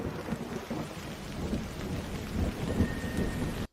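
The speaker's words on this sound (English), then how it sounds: "That was a sudden downpour." A sudden heavy downpour pours steadily with a low rumble of thunder beneath it, a dense, continuous wash of noise with no voices.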